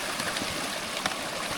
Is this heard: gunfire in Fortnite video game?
no